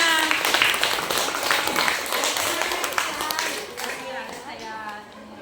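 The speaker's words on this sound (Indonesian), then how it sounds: "Oke, tepuk tangan buat semua" A class of students applauds during a Pancasila lesson, a broad wash of clapping lasting several seconds and slowly thinning, with children's voices calling over it throughout.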